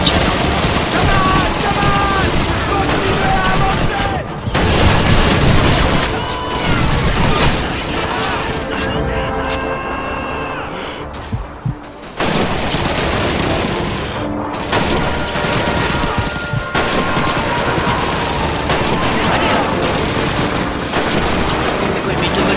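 Call of Duty 2 gunfire during a Russian campaign training and demolition mission, loud bursts of rifle and machine-gun fire with booming blasts, nearly continuous and dense, broken by a few brief lulls.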